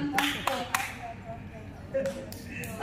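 Scattered hand claps from a small audience at a market revitalization meeting, a few sharp claps early on and more near the end, with talk and room murmur underneath.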